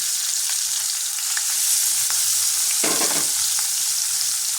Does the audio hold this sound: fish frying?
yes